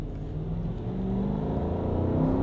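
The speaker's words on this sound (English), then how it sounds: "And now it's time for our reverse acceleration test." A 2024 Nissan Patrol Warrior V8 SUV accelerating hard in reverse, its engine note building steadily and loudly up close over a low, continuous drone with no talking.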